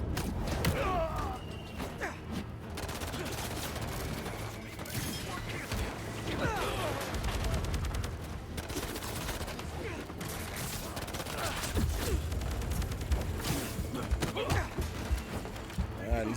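Heavy gunfire from armed enemies in the video game Spider-Man 2 rattles in repeated bursts, mixed with impacts and mechanical clanks, while game voices speak over the action.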